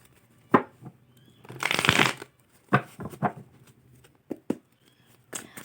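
Tarot cards are shuffled and handled during a reading, with several sharp snaps, one longer riffling burst, and a few softer card taps spaced around it, close and clear with no talk.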